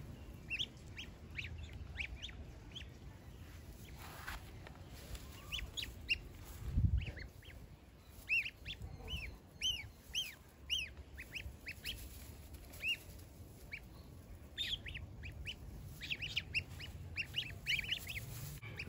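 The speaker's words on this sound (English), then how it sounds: "this is the first day of our goslings, and they had a nice day out in the grass." Young goslings outdoors in grass give repeated high peeps and soft honks, scattered bursts across the whole stretch, fairly close but light, with a low thump partway through and no talk.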